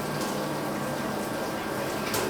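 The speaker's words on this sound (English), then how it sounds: "I'm going to go ahead and run a little bit more water through there." Water running through a HERMS home-brewing system on a brew day, a steady continuous wash of liquid flow with faint hiss, close and even throughout.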